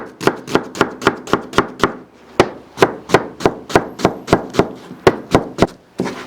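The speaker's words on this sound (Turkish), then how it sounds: "Öncelikle bir tane soğanımızı yemeklik doğrayacağız" A knife chops an onion steadily on a cutting board, about twenty sharp, evenly spaced knocks with a brief pause partway through.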